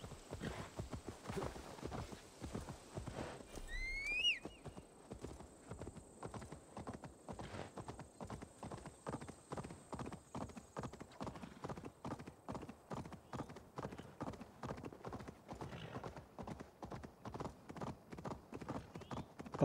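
A horse gallops on auto-run in Assassin's Creed Valhalla, with a rapid, even clip-clop of hooves repeating for the whole stretch and a brief whinny or squeal near the start, fairly quiet overall.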